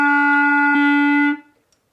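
A beginner's first clarinet note: a single steady, clear tone held for about a second and a half and then cut off, played alone.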